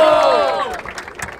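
A crowd at a Brazilian street rap battle in Barueri roars and cheers, a dense wash of shouting voices that fades slightly, with scattered claps and whoops poking through near the end.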